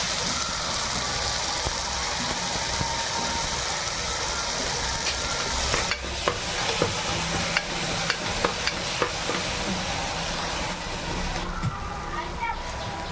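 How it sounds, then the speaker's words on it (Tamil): Tomatoes, curry leaves and coriander sizzle in an oiled pan while being stirred for mutton sukka, a steady hiss of frying broken by scraping clicks of a spoon, with a person talking over it. "தக்காளி, கருவேப்பிலை, கொத்தமல்லி இதெல்லாம் ஆட் பண்ணி அதையும் கொஞ்சம் நேரம் வதக்கலாம்"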